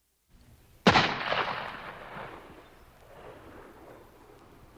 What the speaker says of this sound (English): as he pulled the trigger of his gun